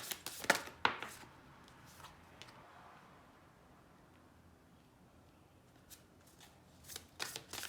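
Tarot cards are shuffled by hand in a few quick riffling bursts at the start and again near the end, with a quiet stretch between, close and fairly soft, no talking.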